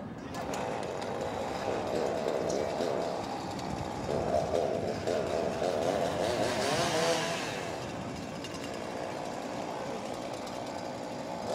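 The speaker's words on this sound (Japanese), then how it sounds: "これからチェーンソーで開口部を開けます。" A chainsaw cuts an opening into a collapsed house during a fire brigade rescue demonstration in Yokohama, giving a continuous buzzing drone at moderate distance that swells briefly midway, with voices underneath.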